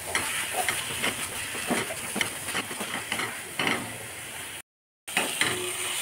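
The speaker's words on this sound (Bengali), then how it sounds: "এইবার পটলগুলোর সাথে আমি ভালো করে মশলাটা আবার কষাবো।" Pointed gourd frying with spice paste in oil, heard as a close, continuous hiss with scattered clicks and scrapes of stirring, cut by a brief drop to silence near the end.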